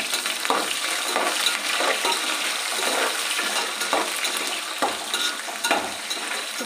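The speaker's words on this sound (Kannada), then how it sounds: "ಈರುಳ್ಳಿ ಹಾಕಿ ಕರಿವೆ ಸೊಪ್ಪನ್ನ ಹಾಕ್ತೀನಿ" Onion and curry leaves fry in hot oil for egg fried rice, a loud, steady sizzle that fills the whole stretch, broken by occasional stirring scrapes close by.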